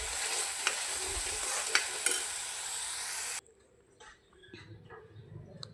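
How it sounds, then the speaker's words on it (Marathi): Ground coriander, garam masala and chili powder sauté in oil for rajma, sizzling loudly with scraping stirs for a few seconds before the hiss drops to a faint simmer with occasional soft clinks. "अशा प्रकारे तेल सुटेपर्यंत छान परतून घेऊ."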